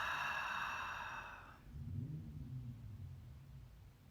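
One slow, breathy exhale during a yoga breathing exercise, close and soft, fading into a low, quiet rumble with no talking.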